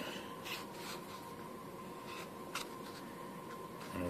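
Foam being cut along a template, giving soft, close scratchy strokes and faint rubbing over a steady low hum, with no talk.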